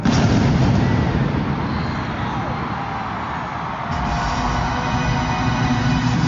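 Gunfire from a staged firing-squad shooting at a concert, heard as loud booming bursts washed into heavy crowd and venue noise.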